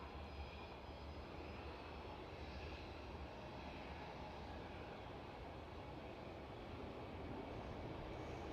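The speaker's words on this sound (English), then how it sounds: "KLM A330, departure." A KLM Airbus A330 departs Schiphol Amsterdam, its engines a dense, constant roar with a deep low rumble, steady and fairly close, with no talk over it.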